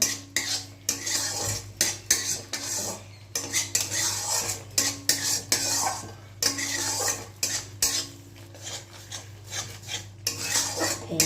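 Masala with Kashmiri red chili powder being fried in a pan for a koi fish curry, with repeated loud scraping and clanking of a metal spatula against the pan in an uneven rhythm over a low sizzle.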